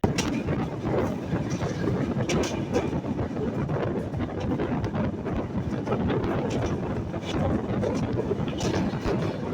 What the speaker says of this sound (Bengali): আমাদের ট্রেনটি ছুটি চলেছে তার পরবর্তী স্টপেজের দিকে